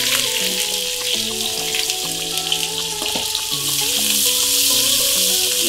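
Garam masala and black pepper fry in hot oil for beef rezala, with a loud, continuous hissing sizzle throughout and faint melodic tones running softly underneath.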